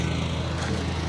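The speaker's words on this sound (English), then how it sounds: "This chipper's really loud," A wood chipper runs steadily during autumn garden cleanup, a loud, continuous engine drone with a low hum and no pauses across the short stretch, close by and without talk.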